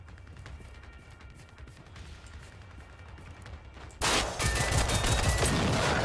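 Machine gunfire from hostile robots in Generation Zero, a faint rattle of shots at first, then suddenly a loud, dense barrage that continues without a break.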